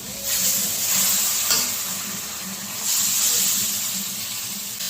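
A ground paste of mustard and poppy seeds hisses and sizzles loudly in a hot pan for shukto, swelling into two broad bursts of frying noise over a low steady hum.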